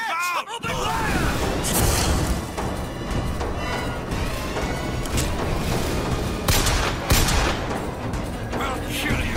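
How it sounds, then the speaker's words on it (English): Heavy gunfire from a BioShock Infinite firefight in the Hall of Heroes, a loud, dense barrage of repeated shots and booms lasting throughout, with voices shouting over the shooting. "Open fire!"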